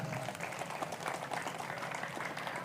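An audience at an Indonesian religious talk claps in a continuous, moderately loud wash of applause with no clear breaks.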